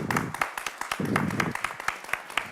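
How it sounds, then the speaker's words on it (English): Scattered clapping from a panel audience, a few hands near by beating out an uneven patter over a couple of seconds. "Big applause."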